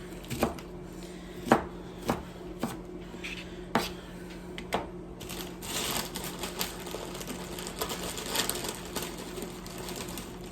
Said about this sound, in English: We're also going to chop some spinach because I like spinach.